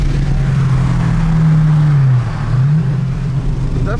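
A turbocharged LS-engined race car at a roll racing event accelerates hard and close, its loud engine note climbing, dipping briefly at a gear change, then pulling again over about four seconds.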